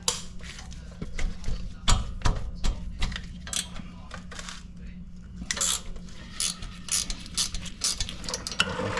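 A ratchet works loose the 10 mm bolts on a brake caliper of a Nissan Armada (Infiniti QX56), with bursts of rapid pawl clicking and metallic tool clanks in a garage, some talk between.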